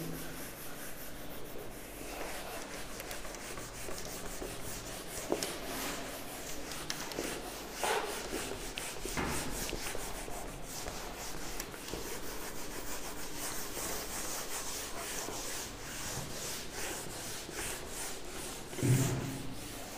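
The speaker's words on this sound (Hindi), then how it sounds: "इसको रब कर देता हूं" A duster rubs writing off a board in a classroom lesson, producing continuous scratchy back-and-forth rubbing strokes at a moderate, fairly close level with no voices.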